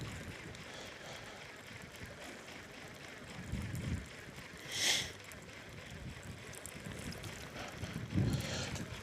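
Wind blows steadily beside the River Humber on a cod fishing outing, a continuous rushing roar with microphone buffeting that swells in a few louder gusts.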